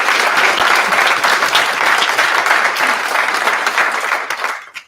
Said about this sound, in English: Give our finalists all a massive round of applause.